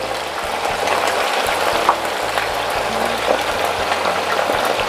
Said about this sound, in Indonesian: kentang yang sudah dipotong-potong digoreng sampai matang dan sampai kering ya